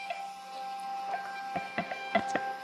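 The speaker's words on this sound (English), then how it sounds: "If you have a Rollo printer connected, it's gonna print these straight to your Rollo." A Rollo thermal label printer prints shipping labels, giving a run of close, rhythmic clicks and ticks over a steady mechanical whir.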